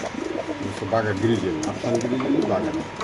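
Racing pigeons coo in low, rolling murmurs close by, mixed with people talking over them.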